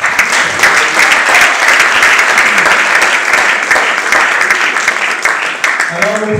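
Sustained applause fills an awards ceremony hall, a dense, steady wash of clapping from a large crowd with no pauses, holding at full strength throughout as faint musical tones creep in near the end.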